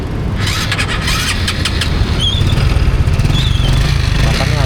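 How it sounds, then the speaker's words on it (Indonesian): Car engine cranking and catching after a flood, with an exhaust that has run hot, a steady loud mid-low engine rumble throughout and brief high squeals near the start and middle. "Nah, ini sekarang coba kita starter ya. Ini gua dengerin aja mesinnya."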